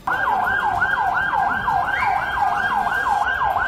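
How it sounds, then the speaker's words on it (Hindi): Ambulance siren at a blast site in Istanbul, a loud rapid wailing whoop that repeats steadily about three times a second, close and continuous, with no speech. "इसी दौरान एम्बुलेंस घायलों को अस्पताल ले जाने पहुँच गई"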